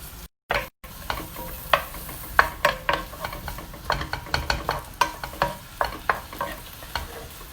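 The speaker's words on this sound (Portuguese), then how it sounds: "E vamos refogar." Onion sautéing with mixed vegetables in a pan, a close sizzle under a steady run of scraping and tapping strokes as a spoon stirs, louder toward the end, with no voices.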